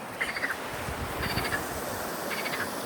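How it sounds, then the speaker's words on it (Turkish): Short bursts of chirpy frog croaks from among rocks near a waterfall in Samsun come in three separate clusters over a steady outdoor background hiss. The calls are moderately faint. "kurbağa sesleri geliyor kayalıkların arasından"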